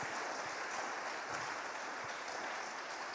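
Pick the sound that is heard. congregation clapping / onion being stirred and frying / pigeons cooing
congregation clapping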